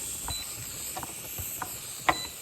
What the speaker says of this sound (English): there is hot steam coming out